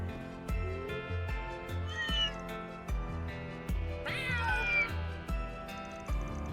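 A cat meows repeatedly in the Trails Through Daybreak 2 video game, with drawn-out, rising calls over a steady rhythmic game music track with a pulsing beat.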